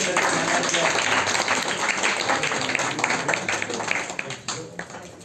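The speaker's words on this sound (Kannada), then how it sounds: "ಒಮ್ಮೆ ಜೋರಾದ ಚಪ್ಪಾಳೆ" Loud, dense applause from a crowd fills a felicitation ceremony for primary school teachers at MPS school in Basavana Bagewadi, dying away toward the end.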